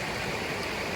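A forest stream flows in a steady, close, full rush of water with no breaks and no voices.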